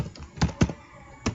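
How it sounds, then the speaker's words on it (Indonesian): Keys clack on a computer keyboard in a few quick, separate taps, close and fairly crisp, with short pauses between strokes and no voices. "keyboard"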